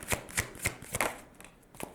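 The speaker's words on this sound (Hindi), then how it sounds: "with the energy oracle cards, let's pull out 2 cards" Oracle cards being shuffled and drawn from a deck, a quick series of soft papery flicks and slaps in uneven rhythm, close and faint.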